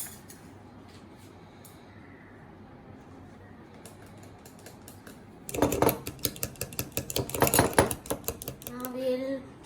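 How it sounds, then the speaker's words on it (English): A spoon clatters rapidly against a bowl while chili sauce is mixed into mayonnaise, a quiet start giving way to brisk, loud scraping and tapping strokes in the second half. "we'll mix the chili sauce with the mayonnaise"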